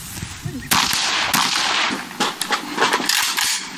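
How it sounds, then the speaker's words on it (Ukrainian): Gunfire at a firing range during combat training of a National Guard brigade near the front line, heard as bursts of sharp, repeated cracks and rattling shots at a moderate distance, with no talking over them. "Стрільба, вибухи,"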